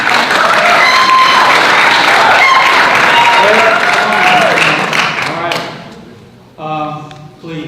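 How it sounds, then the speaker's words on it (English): Loud audience applause and cheering at a 2018 gubernatorial debate between Valdez and White, dense clapping that fades over several seconds before a voice speaks over the tail end. "Please, no applause."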